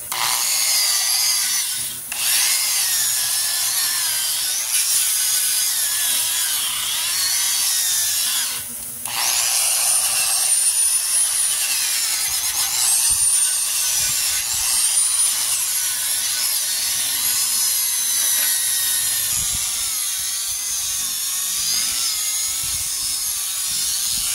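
A power-driven wire brush grinds steadily over rusty parts from a Yamaha V50 outboard motor, a loud continuous abrasive whine with two brief dips near the start.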